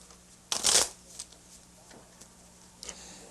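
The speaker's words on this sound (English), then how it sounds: "that's a familiar sight, the shuffling of blackjack cards" Blackjack cards get a quick riffle shuffle, a loud crisp burst of flapping cards up close followed by a few soft taps and clicks over faint room hum.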